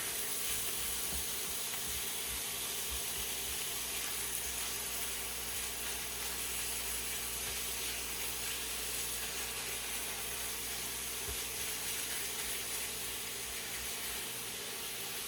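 Ground meat browning in a pan for chili gives a steady, close hiss and sizzle that fills the whole stretch, with faint scrapes and ticks now and then and no one speaking.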